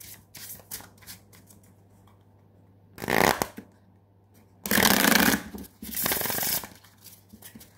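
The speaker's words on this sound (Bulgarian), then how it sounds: "Първо ще разместим хубаво картите." Several bursts of playing cards being shuffled by hand before a card trick, loud and close, with pauses between the riffles.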